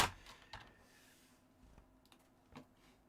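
A few scattered keyboard clicks and taps, sparse and irregular, fairly quiet against a faint background hum.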